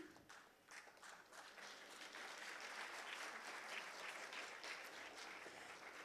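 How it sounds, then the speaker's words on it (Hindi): Children at a campaign launch event at the Nehru Memorial Museum and Library in New Delhi give loud, dense applause, a steady continuous roar of many clapping hands lasting several seconds. "जोरदार तालियां"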